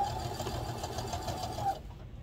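Sewing machine stitching a baby bib with pom-pom trim, a close, fast, even mechanical whirr and rapid needle chatter running for under two seconds before stopping.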